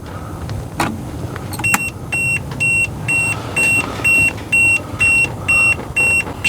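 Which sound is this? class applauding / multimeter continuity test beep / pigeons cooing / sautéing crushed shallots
multimeter continuity test beep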